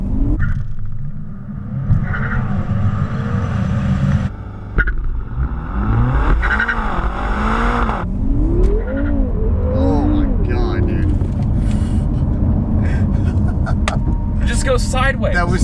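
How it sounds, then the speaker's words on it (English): BMW M6 Gran Coupe launching hard, engine revving up and rising in pitch with gear changes as the car slides sideways, loud and close, with voices talking over it. "hold SMG lever forward, and hold it and press the throttle all the way. Car will move until the SMG lever is released."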